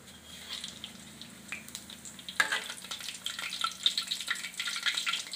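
Bananas deep-frying in hot oil for Thai fried bananas, a steady bubbling sizzle with crackling pops that grows busier partway through, with no talking.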